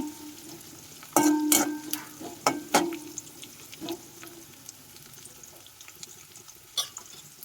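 Sliced small shallots sauté in hot oil in a pan with a steady sizzling hiss, while close, scraping stir strokes clatter across the pan in bursts early on before the frying continues on its own.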